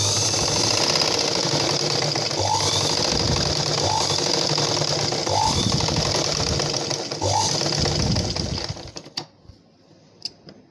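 A sewing machine stitches a line across a blouse with a steady rapid mechanical chatter, broken by short pauses. It runs loud and near for most of the time, then stops and leaves a few faint clicks.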